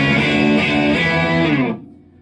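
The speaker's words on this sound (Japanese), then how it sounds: "マーシャルを歪みチャンネルにしました" Electric guitar played through a Marshall amp on its distortion channel, set to a crunchy backing-level drive: a sustained, dense chord rings loud and alone, then cuts off abruptly near the end.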